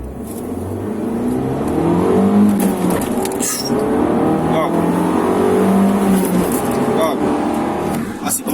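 Fiat 500 Abarth with its 1.4 litre T-Jet engine accelerating hard, a steady loud engine drone with rising pitch heard from inside, while someone talks over it throughout.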